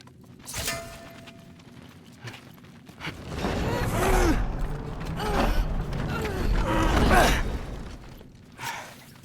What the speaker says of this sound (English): We have to close the door.